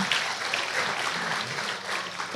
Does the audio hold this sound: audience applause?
yes